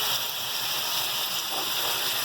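Water poured from nearby into a cooking pot of spices for Nalli Maghaz Nihari, a steady, continuous rushing hiss lasting a couple of seconds with no voices.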